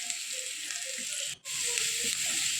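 Chopped capsicum frying in a pan for baby corn Manchurian, a steady, bright sizzle with light stirring clinks, briefly cutting out for a moment before resuming.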